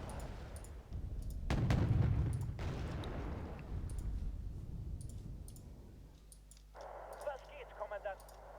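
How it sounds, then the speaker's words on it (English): Anti-tank guided missiles launch and explode in the Wargame Red Dragon strategy game. Dull booms and bursts land under someone talking, followed by sharp clicking interface sounds. "Are we firing HGMs or fireworks at them?"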